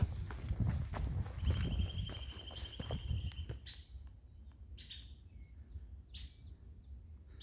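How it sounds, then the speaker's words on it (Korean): Birds sing on a mountain in the morning, with a thin sustained whistle and then scattered high chirps. The calls are moderately distant, heard over the crunch of footsteps climbing a trail. "새소리가 아주 정겹게 들리네요."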